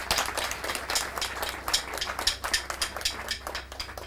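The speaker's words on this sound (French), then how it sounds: "On va l'accueillir chaleureusement avec les applaudissements," Scattered, irregular hand claps from a small audience welcoming a guest at a French-language cultural festival, sharp and fairly close, rising and falling unevenly over a few seconds.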